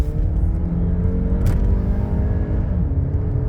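A tuned 2.0-litre Honda Accord G9 engine rumbles steadily at raised revs, a loud, close, continuous drone with no speech over it.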